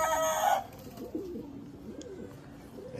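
Pigeons on a rooftop in Tarn Taran, Punjab, give low, wavering coos at moderate distance after a brief louder call at the start, with no voices.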